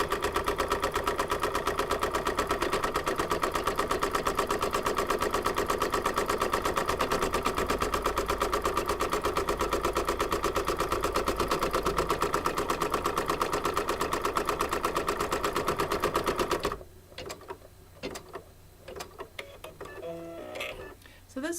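An embroidery machine stitches the felt placement line for an apple coaster, a loud rapid rhythmic needle chatter running steadily for about seventeen seconds before stopping, followed by quieter handling noises.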